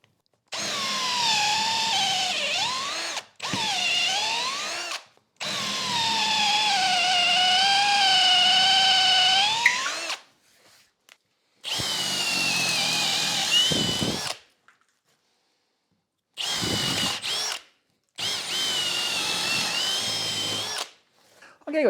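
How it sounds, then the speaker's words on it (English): A Milwaukee power drill bores a series of holes in wood while fitting a wagon-style tail vise to a workbench, running in loud, close whining bursts of several seconds with brief pauses between them. "I'm going to drill a load of holes with this, get it out"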